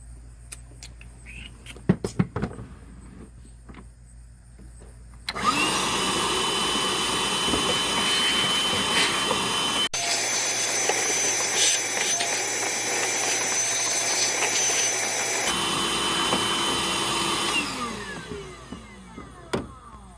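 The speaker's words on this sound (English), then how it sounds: "let's clean it up with a vacuum cleaner" A vacuum cleaner sucks debris such as fuzz, leaves and sand out of a Chevy Traverse air filter housing, starting abruptly after a few light clicks and roaring loud and steady for about twelve seconds before winding down.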